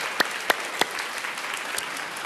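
An audience at a church youth evening service gives a short round of applause of encouragement, starting with a few sharp, close claps and then fading into scattered, thinning clapping.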